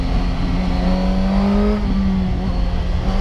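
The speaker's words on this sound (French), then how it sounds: "ce moteur a vraiment un bruit très rocailleux" A Suzuki GSX-S 1000 motorcycle accelerates hard, its raspy, gravelly engine note loud and steady close by, with the pitch rising through the run and a brief shift dip midway.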